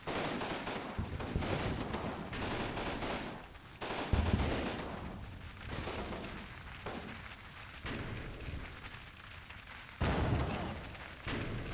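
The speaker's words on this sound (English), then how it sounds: "we got mortars coming in" Incoming mortar fire in Combat Mission Normandy, a WWII strategy game, with repeated booming impacts and crackling gunfire at a moderate distance, fairly faint, spaced irregularly with a few heavier thuds.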